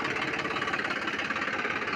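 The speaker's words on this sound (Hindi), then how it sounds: "बहुत बेहतरीन आवाज़ है ट्रैक्टर की" Steady, close diesel idle of a 2010 Massey Ferguson 241 DI tractor with no smoke from the silencer, a continuous even rumble with faint rhythmic knocking and no talk.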